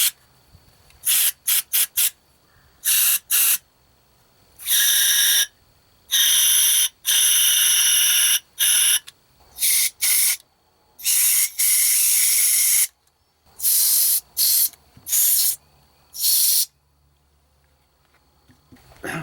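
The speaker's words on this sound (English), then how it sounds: "I like to use the canned air to blow out all these" Canned air blasts through the ports of a carburetor from a 1970 Evinrude Fisherman outboard, coming as a string of sharp, loud hissing sprays, some short, some held for a second or two, with quiet gaps between them.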